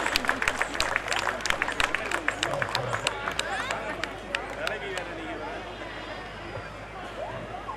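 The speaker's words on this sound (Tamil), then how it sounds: "நல்லா கைத்தட்டுங்க" An audience claps to welcome a guest onto the stage at a community association's annual celebration in Madurai, with dense applause at first that fades into crowd murmur.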